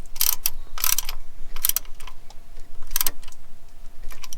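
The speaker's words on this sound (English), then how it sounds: "These guys are 12mm bolts, and there is no torque specs, so you just tighten it down." 12mm bolts being tightened into aluminum on a 1988 Toyota van's clutch, a few short bursts of sharp ratcheting clicks spaced irregularly and heard up close over faint background noise.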